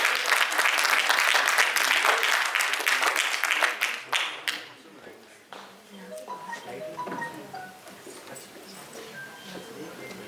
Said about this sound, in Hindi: आपकी जिम्मेदारी है कि जोरदार तालियों से आपको नवाजें